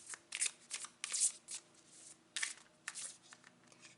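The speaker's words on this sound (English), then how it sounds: "I've seen her twice since shuffling, so it must be a sign." An oracle card deck is shuffled in quiet, close bursts of papery riffling and rustling, with short pauses between them and no talk.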